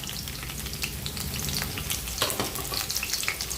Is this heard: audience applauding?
no